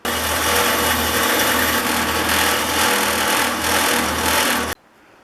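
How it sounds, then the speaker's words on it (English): A bench-mounted wire wheel grinds and scrubs small cast parts from a Stanley No.6 fore plane, a loud, steady buzzing whir that runs continuously without pause, then cuts off abruptly near the end, leaving a quiet hum. "after all the screw slots are clean, it's over to the wire wheel."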